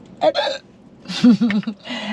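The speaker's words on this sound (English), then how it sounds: "It's a hiccup." Several sharp hiccups spaced about a second apart, close and loud, with a brief breathy vocal sound between them and no talk.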